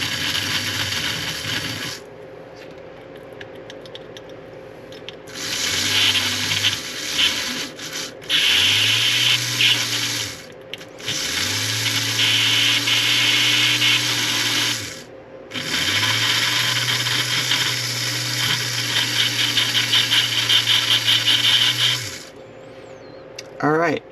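Rotating wheel cleaning brush scrubbing the wheels of a model train locomotive, a motorized whirring and rubbing that starts and stops in several long bursts, close and loud, with no one speaking.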